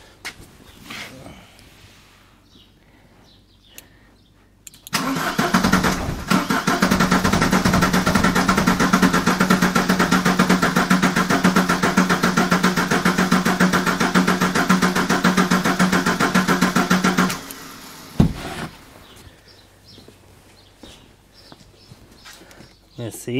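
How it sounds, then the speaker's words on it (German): An old Ford Escort diesel estate, unused for years, cranks loudly and steadily for about twelve seconds after a brief earlier attempt, then stops, with quieter talk and handling noises around it. "Ich versuche jetzt nochmal zu starten,"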